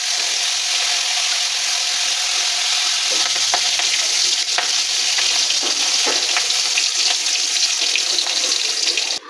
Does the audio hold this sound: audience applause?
no